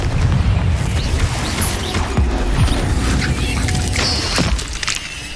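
Bombarda and Confringo spells explode in Hogwarts Legacy, producing loud, rumbling blasts and crashing debris amid busy battle noise, with several hits in quick succession.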